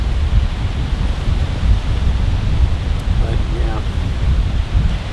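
Steady, heavy wind buffets the microphone in a constant low roar, with a short spoken phrase briefly breaking through.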